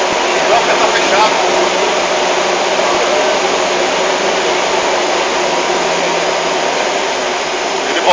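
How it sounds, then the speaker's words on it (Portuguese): A wind tunnel fan spins at high speed with its inlet closed, giving a loud, steady broadband roar that holds unchanged from start to finish. "Ele botou uma rotação alta do ventilador, mas a entrada tá fechada"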